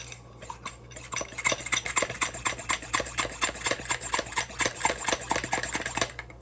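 Rapid, rhythmic mechanical hand-pump strokes filling a 3D-printed Nerf air tank, with hissing air, a steady series of close, clattering pulses over a low hum.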